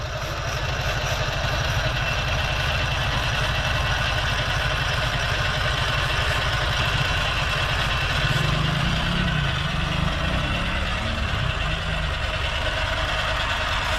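A Toyota Soarer / Lexus SC400 engine with an idle issue runs steadily and close, a continuous low hum with a slight shift in tone partway through and no voices.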